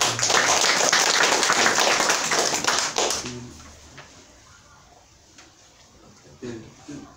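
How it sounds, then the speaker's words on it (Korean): Applause from a residents' meeting crowd, dense and steady for about three seconds, then stopping abruptly and leaving quiet room noise with a few faint sounds. "박수."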